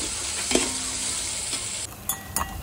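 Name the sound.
onion frying in oil in a pot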